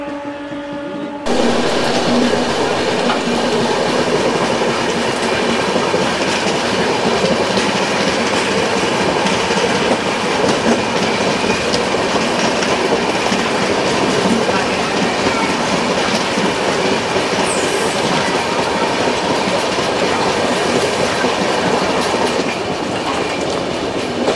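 Heard from inside the carriage of the Howrah–Jasidih Poorva Express, the train runs steadily on the rails with continuous rumbling and rhythmic clatter of wheels throughout.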